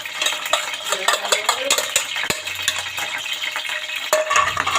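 A spoon stirs ginger-garlic powder, turmeric and black pepper into an eggplant fry mixture in a pan, giving busy scraping and clinking over a soft sizzle, with a couple of sharper knocks against the metal.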